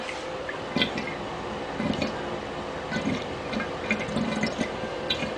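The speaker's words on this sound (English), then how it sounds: "I'm also going to show that the bathtub is draining." Water draining from a bathtub, a close gurgling trickle with irregular drips and soft sucking bubbles repeating every second or so, no speech.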